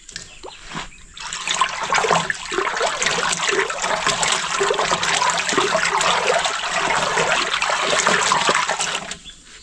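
Water splashing and trickling in a container as alum is stirred in to clear cloudy water, a steady close sloshing that runs unbroken for several seconds with no talk.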